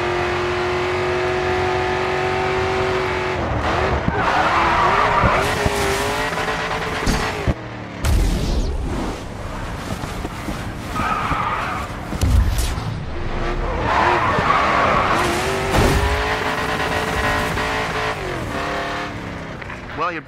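Race car braking and tire squeal in GRID 2, a revving engine with pitch sweeps, screeching skids and gear shifts, loud and close, with a voice talking over the driving.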